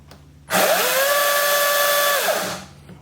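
A 40-volt Wild Badger Power cordless chainsaw spins up sharply, holds a loud, steady high whine for about two seconds, then winds down as the trigger is released.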